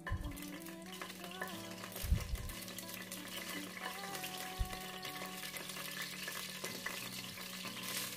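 Bay leaf, cinnamon, cloves and cardamom crackling in hot oil and ghee, a soft steady sizzle with faint pops and occasional utensil knocks, low in level and without talk.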